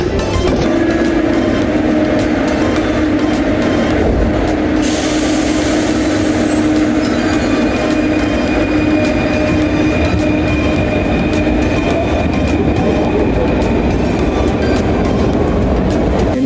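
A train rumbles loudly and steadily near Paris, with continuous wheel and carriage noise, a sustained hum, and occasional rattling clatter throughout.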